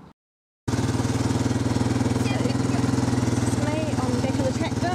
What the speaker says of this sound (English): It doesn't look like a tractor to me. it's a motorcycle.